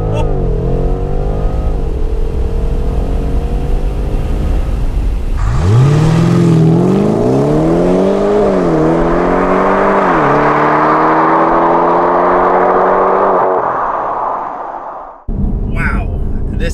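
A 2018 BMW M550i with all-wheel drive launches hard from a standstill, its engine note climbing through rising harmonics up close and loud for about ten seconds before easing off, with cabin noise throughout.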